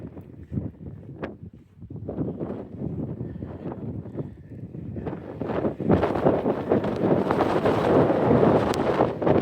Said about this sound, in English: And the wind starts blowing again.